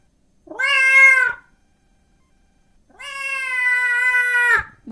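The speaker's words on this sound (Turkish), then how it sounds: "Bu bir kedi, öyle değil mi çocuklar?" A cat meows twice, clear and close: one short call, a pause of over a second, then a longer drawn-out meow, with silence between.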